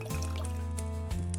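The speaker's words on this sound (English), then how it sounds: "She found the whiskey bottle on the table and poured herself another glass." Whiskey poured from a bottle into a glass on a table, a steady liquid trickle and fill running close and clear for over a second over a low background hum.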